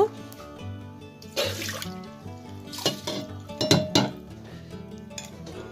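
Soaked rice and water are poured into a metal pressure cooker, with clinks and knocks of the pot and bursts of splashing water close by, over faint background music.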